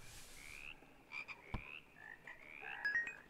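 Faint croaking calls from a frog enemy in the video game House repeat over a quiet background, with a brief thump partway through; no one speaks.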